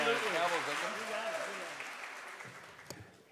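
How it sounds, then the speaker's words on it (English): A hall audience applauds for a senator at a public gathering, with voices mixed into the clapping at first, then the applause fades away to near quiet. "please give a round of applause to our senator"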